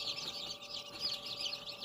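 Tiny chicks in a warming box on a hen farm peep in a dense, high, overlapping chorus of rapid chirps that runs steadily and fairly quietly throughout.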